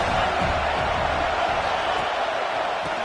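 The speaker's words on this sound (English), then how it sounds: "This crowd rising up, sensing that its defense needs some help." A large football stadium crowd roars steadily through a Georgia vs. Auburn game, a dense, continuous wash of cheering with no clear breaks.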